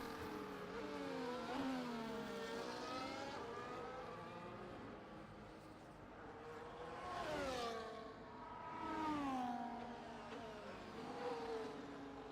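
F1 cars from the racing game F1 24 run hot laps at Austria, with engine tones rising and falling in sweeping pitch as cars rev and pass, fairly faint, with overlapping engine whines.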